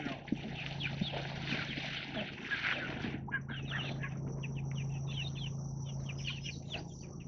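Farm chickens cluck and chirp in a dense, continuous chatter close by, with a low steady hum underneath and no talking.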